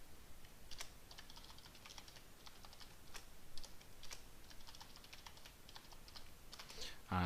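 Password being typed on a computer keyboard while setting up a user account in Windows Server 2008 R2: a faint, irregular run of soft key clicks over steady background hiss.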